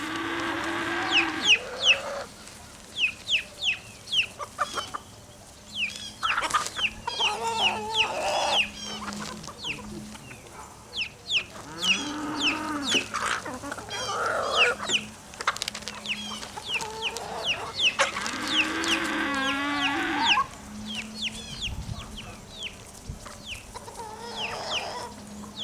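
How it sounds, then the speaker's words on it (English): A backyard flock of chickens clucks and squawks excitedly over treats, a busy overlapping chorus of close, agitated calls with bursts of louder cackling and no talking. "I got some treats for the chickens, and they're about to have a heart attack for it"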